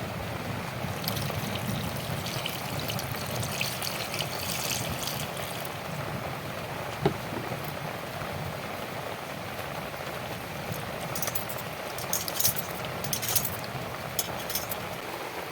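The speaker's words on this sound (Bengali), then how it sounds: "এবার আমি আলুটা ভালো করে ধুয়ে নেব।" Cut potatoes being washed in water, with steady splashing and swishing plus occasional light clinks of a bowl, continuous at moderate level.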